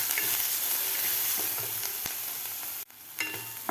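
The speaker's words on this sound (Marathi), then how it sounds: "मसालासुद्धा आपल्याला 1 मिनिटभर व्यवस्थित फ्राय करून घ्यायचा आहे. एक मिनिटभर परतायचा आहे आपल्याला मसाला." Masala spices fry in a pan for aloo vadi while being stirred, giving a steady bubbling sizzle with scraping stir strokes, a sudden brief drop in sound, then the sizzle resuming.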